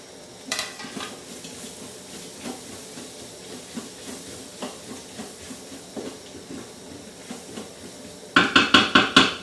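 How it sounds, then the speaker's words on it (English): Coriander stalks fry with spices in a pan while braised ossobuco is prepared, giving a soft, steady sizzle with repeated stirring scrapes, then a louder burst of crackling near the end. "I like putting the dania stalks to cook with the spices."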